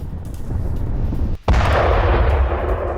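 Howitzer artillery fire on Ukrainian positions near Kharkiv: continuous loud, rumbling battlefield noise with a sharp brief dropout, then a heavy blast that swells and sustains, with no talk.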